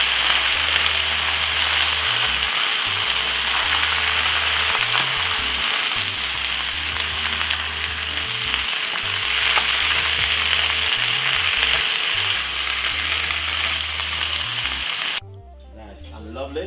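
Spinach and mixed vegetables fry in a pan with a loud, continuous hiss and sizzle, a low rhythmic thumping beneath it, before the sound cuts off abruptly near the end.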